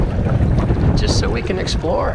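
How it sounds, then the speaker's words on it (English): Gusty wind on Summersville Lake in West Virginia buffets the microphone while kayaking, a steady loud rush of low noise with a person talking briefly over it. "Got a little wind at this point, so we're gonna keep her close."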